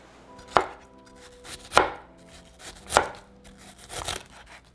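A knife chops onion and tomato on a cutting board while preparing spiced-up ramen noodles: four sharp, evenly spaced chops, close and distinct, with quiet pauses between them and no talking.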